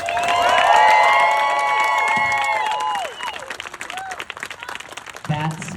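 Outdoor Pride rally crowd answering with applause and cheering from allies, a dense burst of clapping and whoops that gradually thins, with voices rising near the end.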